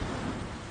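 Heavy rain with a low thunderous rumble forms a dense, steady wash of sound, faint overall and continuous.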